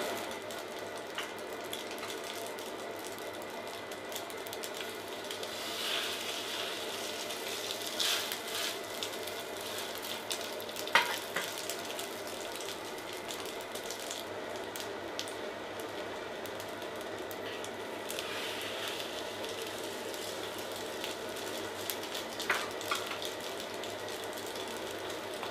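Burger patty sizzling on a lightly oiled plancha griddle, a steady, faint hiss of frying with occasional soft crackles and pops, no voices.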